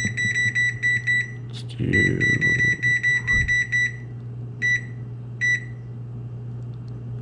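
Repeated electronic beeps from an oven control panel as the preheat is set to 425, coming in short clustered bursts close by, with a brief rustle and a few words spoken partway through.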